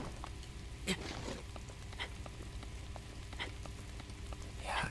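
Rain in The Legend of Zelda: Breath of the Wild video game, a soft, steady patter of drops with occasional sharper taps, faint and continuous.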